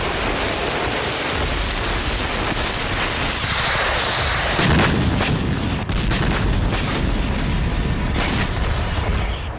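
Missile and drone blasts striking Kyiv in a Russian attack, captured in news footage: a dense, continuous roar of heavy booms and crackling detonations that fills the whole stretch, loud and broadband, with no talking.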